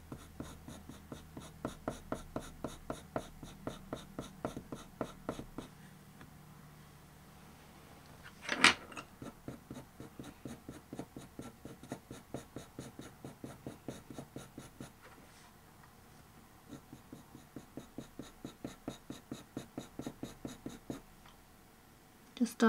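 A colored pencil, Caput Mortem Violet, scratches fur strands onto paper for a lion drawing in quick, rhythmic strokes, close and steady, with a brief louder knock partway through and a pause in the middle.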